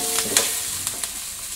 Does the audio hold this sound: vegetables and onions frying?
yes